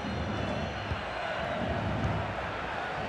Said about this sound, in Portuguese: A torcida faz barulho, é pro Mbappé